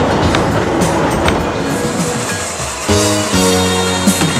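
A train rolls through Deer Valley at close range with a loud, continuous rumble and rattle of wheels on track, with a brief squeal near the end.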